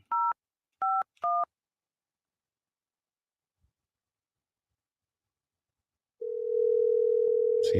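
Three short telephone keypad tones dial a number, then silence, then a steady tone sounds as the call is placed, fairly quiet and without speech.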